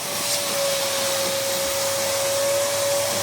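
A vacuum sucks muck out of the trough of a pizza oven during maintenance, making a loud, steady suction roar with a constant high whine and no pauses.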